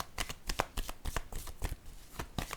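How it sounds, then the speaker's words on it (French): Playing cards riffle and slide through a deck in quick, irregular flicks, a run of close, crisp papery snaps at moderate volume with no voices. "Je vais piger une carte sur la caméra."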